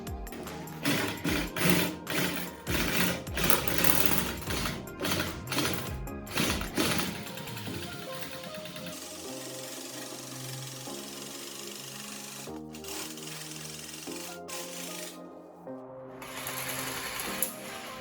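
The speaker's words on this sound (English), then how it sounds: "next up, we're going to trim out through our template line with our double cuts" Double cut power shears trimming a sheet metal firewall panel for an MR2 engine swap, rapid loud chattering bursts that stop and start, then a steady mechanical whir, close and without speech.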